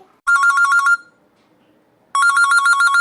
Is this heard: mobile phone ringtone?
yes